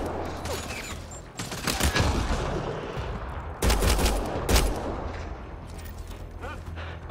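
Gunfire in Mass Effect: Andromeda: dense, loud bursts of weapon fire in a fusillade, with heavier impacts around the middle, over a steady low rumble of game ambience.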